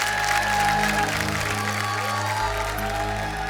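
Loud, steady applause from a live stage-show audience welcoming a performer, a dense wash of clapping with some crowd noise under music.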